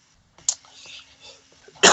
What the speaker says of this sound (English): Sorry to cough, folks.